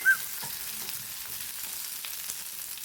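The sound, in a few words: green chillies and curry leaves sautéing in oil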